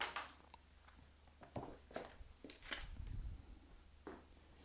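An oracle card deck is shuffled in a quiet room, giving soft, irregular papery riffles and flicks in short bursts, faint and close, with no talking.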